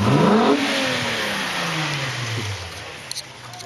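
A car doing a burnout, engine revving hard at the start then holding a long, loud, falling drone as the tires spin, with a short sharp burst near the end.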